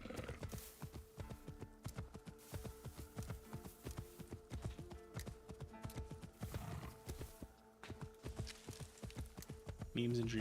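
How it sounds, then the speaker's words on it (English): Horse hooves from the Assassin's Creed Shadows video game, a steady clip-clop of a mount climbing a mountain, rhythmic and close, over a low game music drone, with a brief whinny-like burst at the end. "is this best video game horse?"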